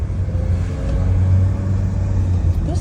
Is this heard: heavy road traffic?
yes